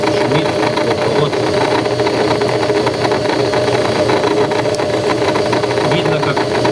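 Indesit WS84TX washing machine with a loose, unbalanced drum during rinse or spin, giving a steady rumbling, grinding mechanical drone with fast rhythmic vibration, loud and continuous at close range.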